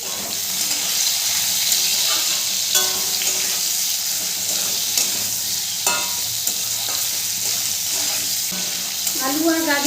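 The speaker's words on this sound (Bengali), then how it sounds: "আলু আর গাজরটা খুব ভালো করে ভাজা হয়ে গেছে" Potatoes and carrots frying and being stirred in a pan for Bengali shukto, a steady close sizzle with scattered scraping stir strokes throughout, no talking.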